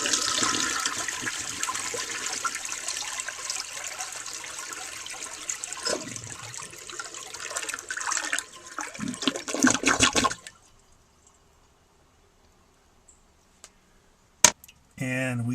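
A 1954 Eljer Waco toilet flushes with a loud rush and swirl of water that runs for about ten seconds, then cuts off abruptly, leaving near silence broken by a few faint drips and clicks.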